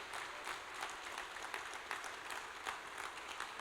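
A church congregation gives a round of applause, a steady wash of clapping with slightly rhythmic peaks, heard at moderate distance and fairly quiet.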